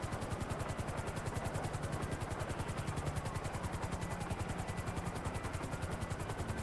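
Helicopter rotor in the FiveM game, a steady rapid chop with a constant engine whine, loud and continuous throughout with no talk over it.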